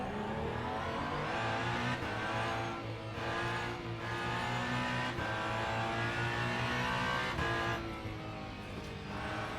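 In the Le Mans Ultimate video game, a race car's engine roars around the Circuit of the Americas (COTA). The loud, close, steady engine tone holds throughout with slight shifts in pitch and no talk over it.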